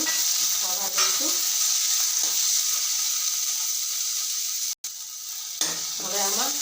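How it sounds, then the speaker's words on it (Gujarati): Spices sizzle and fry in a pan of khichdi while a spoon scrapes and stirs in short bursts over a constant hissing sizzle, heard close up with a brief dropout partway through. "હવે આમાં આ બાકીના મસાલા એડ કરીશું. આને બી થોડું થવા દઈશું."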